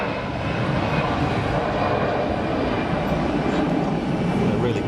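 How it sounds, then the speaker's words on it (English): An EasyJet airliner departing Geneva Airport for Naples roars at full takeoff throttle, a steady, loud broadband rumble that holds without a break for the whole stretch. "EasyJet out to Naples with a good armful of throttle."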